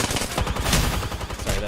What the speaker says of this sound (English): is there a way for me to turn down gunshots?